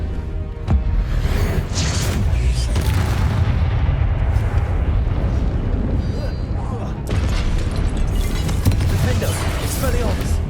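Repeated Confringo fire-blast spell impacts in the video game Hogwarts Legacy, booming explosive bursts over a dense, loud battle mix with constant game noise and music.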